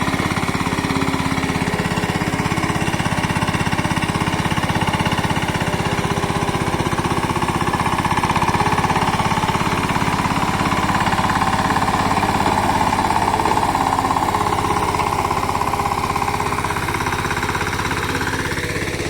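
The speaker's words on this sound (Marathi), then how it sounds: "ट्रॅक्टरचं काम अगोदर सुरू होता" A tractor churning a flooded paddy field into mud, its engine droning loud and continuous with a rough, rattling beat throughout, no voices.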